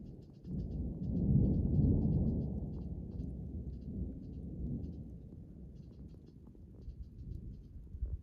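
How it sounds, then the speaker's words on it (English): Rain falling with low rolling thunder in a mountain forest during an archery elk hunt, a steady broad rumble swelling early then easing, with faint scattered patter on top and no talk. "evidently it's decided to rain."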